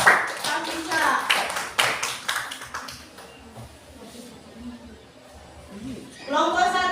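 Classroom applause for a student, a burst of clapping from a group over the first few seconds that fades out before a voice starts talking again.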